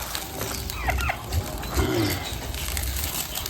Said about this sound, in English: I'm gonna bring my chicken.